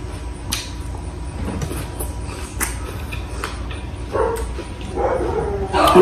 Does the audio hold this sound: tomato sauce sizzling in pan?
no